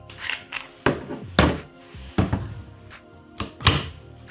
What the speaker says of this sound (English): To get this back down, you would need to remove the mag.